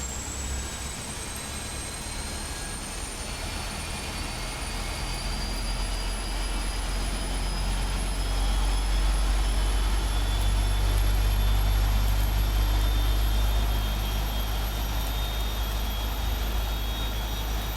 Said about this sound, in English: left engine start